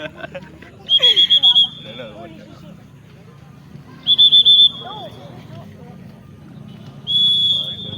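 Three shrill referee whistle blasts at a village football match, the first two as rapid trilled bursts, the last a longer steady blow, over crowd noise and a commentator talking.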